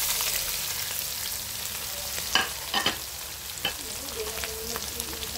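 Chopped onions sizzling and frying in a hot pan while cooking a Filipino chicken dish, a steady hiss with a few sharp crackles and pops, heard close and alone without talk.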